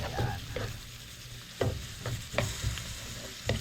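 Onions sizzle in a hot pan for beef rib kaldereta, a steady frying hiss broken by several scraping stirs at irregular intervals, close by with no talk.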